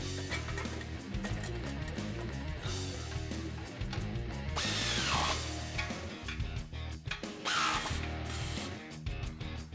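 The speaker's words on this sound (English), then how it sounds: "You also want to spray down that rubber isolator" Two bursts of hissing aerosol lubricant sprayed onto a rubber exhaust isolator on a 2011-2014 Ford F-150, close and steady, over a low background of music.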